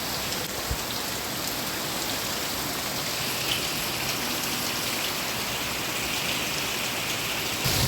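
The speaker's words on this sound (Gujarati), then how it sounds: "વરસાદ શરૂ છે ને હું જાઉં છું આમ મોલ પર" Heavy rain falls steadily on a flooded farm field, making a dense, even hiss that holds at the same level for the whole stretch. A few faint drips stand out near the start and end.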